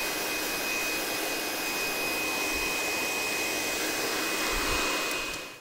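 A hair dryer blasts steadily and loudly, blow-drying the sides and back of a short pompadour haircut at a barber's, with a continuous close roar and a faint high whine that fades at the very end.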